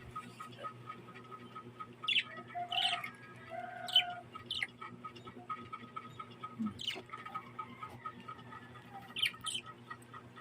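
Scattered short chirps from small parakeets and lovebirds, faint and sporadic, over a quiet steady background hum.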